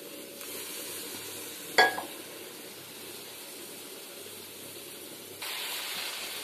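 Masala spices fry in a pan with a splash of water added, giving a steady close sizzling hiss throughout, broken by one sharp clatter near the start and a slightly brighter sizzle toward the end.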